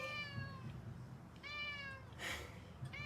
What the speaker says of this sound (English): Hi, kitty.